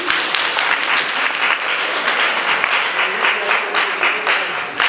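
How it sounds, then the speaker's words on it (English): An audience applauds a volunteer at a life-mission session, giving steady, dense clapping at close range that holds evenly for the whole stretch with no voices on top. "Please go ahead and clap for him."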